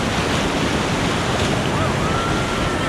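Rushing river rapids during a whitewater rafting run in Costa Rica, a steady, loud roar of churning water and wind buffeting the microphone for the whole stretch.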